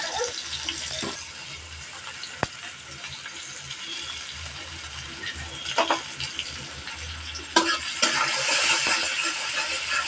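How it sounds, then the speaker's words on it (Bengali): Onions dropped into oil left over from frying catfish give a low, steady sizzle, with a sharp clink and a few louder bursts of spitting oil near the end; the sound is close and moderately loud. "দেখুন এই তেলের মাঝে আমি পেঁয়াজটা দিয়ে দিব।"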